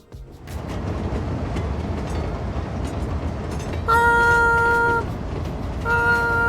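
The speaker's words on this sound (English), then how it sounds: "Train's coming in." A train pulls into a station in the city-building game Cities: Skylines II, its steady rumbling roll broken by two sharp horn blasts near the end.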